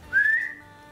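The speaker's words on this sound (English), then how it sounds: "What are you whistling about?" A person whistles a single short rising note that holds briefly and then fades, fairly close and alone without speech.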